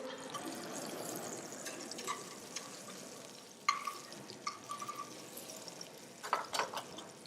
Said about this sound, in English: As the butter is melting